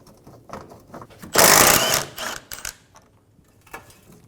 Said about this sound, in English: Using a 14mm socket, remove the bolt for the tank strap.